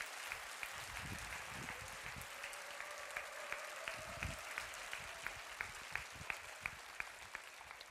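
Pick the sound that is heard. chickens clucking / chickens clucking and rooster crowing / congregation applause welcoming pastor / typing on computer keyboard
congregation applause welcoming pastor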